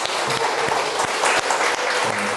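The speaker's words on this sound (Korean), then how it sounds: "뜨거운 박수 부탁드리겠습니다" Audience applause at the close of a two-hour cancer health talk, steady dense clapping from a crowd throughout, fairly loud with no speech over it.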